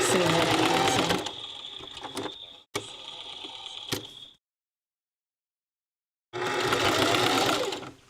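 Sewing machine stitching rope, two close bursts of rapid mechanical whirring split by short pauses and a stretch of silence.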